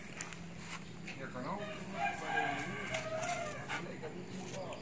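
Farm-raised chickens cluck and a rooster crows faintly in the background, with muffled voices and farmyard noise around them.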